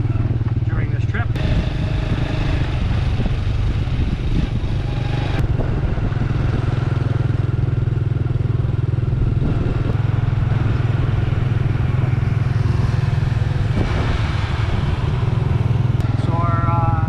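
Tuk-tuk ride through the streets of Siem Reap, Cambodia: a steady low motorcycle-type engine drone with rattling clatter, passing traffic and scattered road noise, continuous and close throughout.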